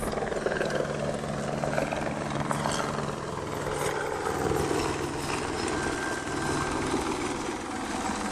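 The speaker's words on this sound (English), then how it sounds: "The chopper's coming for us." A loud, steady helicopter roar with chopping rotor thump, flying close overhead near small islands in Guadeloupe, sustained and close throughout, no voices.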